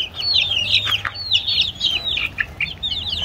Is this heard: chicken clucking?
yes